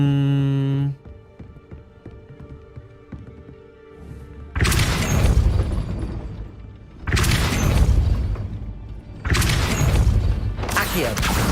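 Depulso force spell in Hogwarts Legacy, fired repeatedly: after a brief musical tone, three loud booming bursts of blast and crashing debris arrive in turn, each lasting a couple of seconds.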